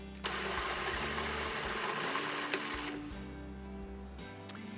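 A food processor purees chopped carrots with hot water, its motor whirring steadily and fairly loudly for the whole stretch, with a few sharp clicks and knocks along the way.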